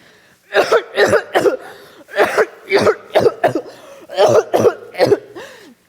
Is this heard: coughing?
yes